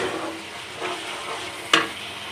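Assorted spices fry in a pan with a steady, soft sizzle, broken by a single sharp knock of a utensil against the pan.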